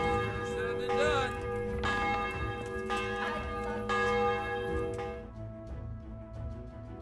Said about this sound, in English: Have a little ring on the bell.